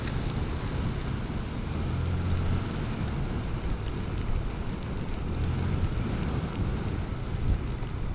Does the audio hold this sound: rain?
yes